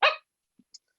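A single sharp dog bark, close and loud, followed by silence and a couple of faint small clicks.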